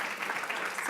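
Audience applause at a Holland Bloorview staff gathering, welcoming new staff members; a short, steady burst of many hands clapping fairly close, with faint speech-like murmur mixed in.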